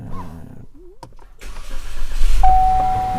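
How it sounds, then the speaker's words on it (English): A Chevy Malibu engine cranks and catches, then settles into a steady idle close by, with a brief electronic tone near the end. "we're back in the car and it's time to run the engine"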